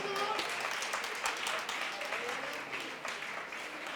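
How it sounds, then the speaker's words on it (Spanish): A gala event audience applauds for a participant named María, a fairly faint, continuous patter of clapping with a few sharper claps standing out, and voices mixed in underneath. "Un aplauso, por favor, para María."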